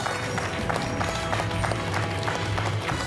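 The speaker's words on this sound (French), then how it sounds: "on peut applaudir Boris qui a fait un super match" Quiz show studio audience applauding contestant Boris after his match, a steady wash of clapping with background noise, fairly even throughout.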